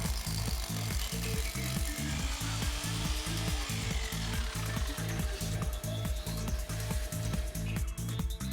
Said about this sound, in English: Drill vertically and take care of the depth.